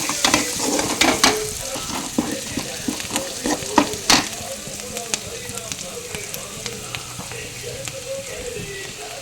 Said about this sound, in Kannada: ಇವಾಗ ಇದು ಸ್ವಲ್ಪ ಫ್ರೈ ಮಾಡ್ಕೊಳ್ಳೋಣ ಚೆನ್ನಾಗಿ.